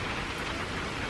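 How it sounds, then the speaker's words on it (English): Steady, fairly heavy rain falling outdoors during an archery deer hunt in Michigan, a dense continuous patter with no breaks and no talk. "It's been raining now for 20 minutes or so. It's pretty good rain."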